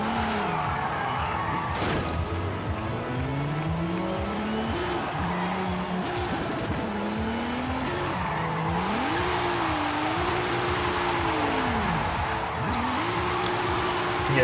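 A car drifting in Forza Horizon 5, tires squealing in long wavering wails over a constant engine drone, close and continuous, with the pitch rising and falling as the slide angle changes.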